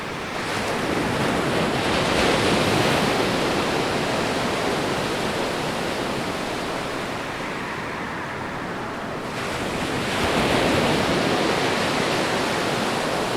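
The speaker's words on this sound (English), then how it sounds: "the fierce sea, with waves crashing into the seawalls" Heavy surf roars and crashes continuously into seawalls, with loud surges of churning water swelling and easing, no voices present.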